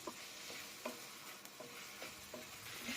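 Onions frying in a pan with the remaining ginger garlic paste added, giving a steady close sizzle with a few soft stirring scrapes of a spoon throughout.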